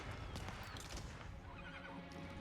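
Horses neighing and whinnying in the real-time strategy game Age of Empires IV, set within a dense, continuous wash of battle noise with hoofbeats and clashing in the background.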